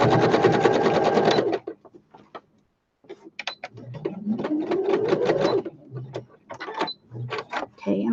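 A sewing machine stitches fabric pieced from odds and ends in a loud burst, then stops; quieter clicks, handling sounds and a voice follow.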